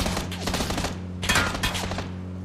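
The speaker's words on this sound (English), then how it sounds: "Who's shooting?" Bursts of rapid automatic gunfire in a video game battle, loud and close, with dense overlapping shots in two clusters and no clear talk.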